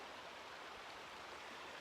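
A river near a campsite at Opal Creek runs with a steady, broadband rushing wash, constant and moderately distant, with no voices over it.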